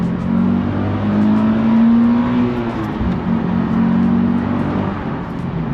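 A car engine pulls steadily under acceleration while driving, a loud continuous drone with a slight rise and fall in pitch, heard alone without talk.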